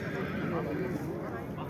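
A young horse neighs at a busy livestock market in Karakol, its whinny rising over constant crowd chatter and hoof clatter nearby.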